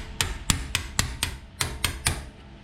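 Sharp metallic taps ring out about every half second as an anti-rattle brake clip is driven into place on a Jeep Grand Cherokee front brake, eight close, even strikes with no talk.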